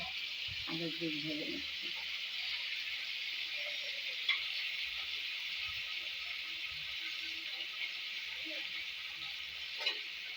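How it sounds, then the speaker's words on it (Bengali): Pieces of katla fish frying in hot oil in a home kitchen, giving a steady, continuous sizzle throughout, with a brief voice near the start. "মাছটা ভাজা হচ্ছে"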